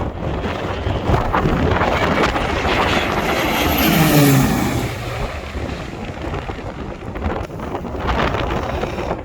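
A loud firefighting aircraft engine roars overhead with a rising and falling drone during a wildfire, mixed with strong wind buffeting the microphone.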